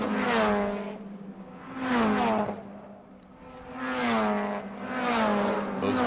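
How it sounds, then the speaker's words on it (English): Race cars sweep through turn 16 at a racetrack one after another, each pass swelling to a loud whining engine note and fading, four surges in a rhythmic sequence with brief quieter gaps between them. "Those beautiful race car noises."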